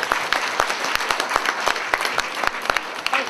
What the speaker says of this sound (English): Give him a big clap, everyone.